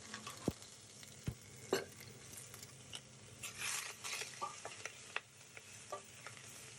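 Olive oil with garlic and bay leaf sizzling in a hot pot, a faint, soft bubbling hiss with occasional sharp ticks and pops from the utensil, quiet and close.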